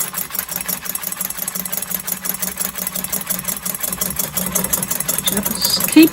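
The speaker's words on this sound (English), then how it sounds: "Just keep whisking until you get lots of foam." Whisk beating a bourbon mixture for spiced pecans until foamy, a fast, even rhythmic clicking and scraping against the bowl that carries on steadily from start to finish.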